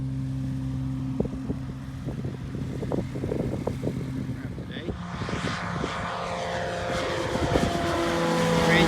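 A Rans S-19 light propeller plane's Viking 110 engine drones and grows louder as it approaches, with people talking nearby over clicks and rustling.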